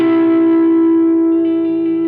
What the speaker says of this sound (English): the distortion on the guitar helps everything sound smooth and even and have sustain